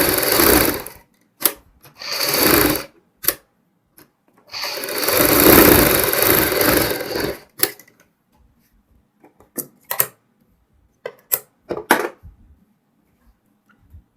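A sewing machine stitches a kurti neck seam, running over an earlier line of stitching in several loud bursts of rapid whirring, the longest lasting a few seconds, followed by sparse, sharp clicks and short taps.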